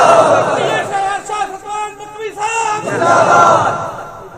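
A crowd at a religious gathering roars a slogan back in response to a takbir call, loud massed voices swelling, dipping briefly, then rising again in a sustained chant.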